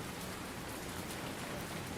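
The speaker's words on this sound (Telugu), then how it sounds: "ఇప్పుడైతే వర్షం చిన్నగా తగ్గిపోయింది, కానీ వర్షం మాత్రం చాలా అంటే చాలా దండి పడింది" Steady rain falls in summer, an even, dense hiss of drops on surfaces with no voices, heard at an outdoor spot where monkeys are about.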